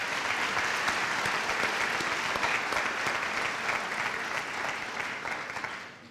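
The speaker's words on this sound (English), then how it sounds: "join me in a round of applause for the people that" Audience at a community college nursing pinning ceremony breaks into steady, sustained applause, a dense wash of many hands clapping that holds loud throughout before easing slightly at the very end.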